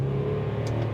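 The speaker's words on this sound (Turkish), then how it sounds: "Bak bu motor kükrüyor." A BMW X5 E53 with a 3.0-litre diesel engine revs up, giving a deep, steady, close mechanical drone for about a second, with no voices.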